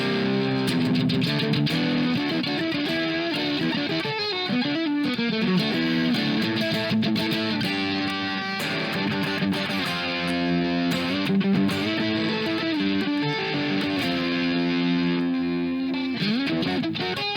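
An electric guitar played through a Fender Mustang LT25 amp on a classic rock setting, with a driven, distorted tone and effects coloring, as steady chords and riffs ring out loud and close with no talking for the whole stretch.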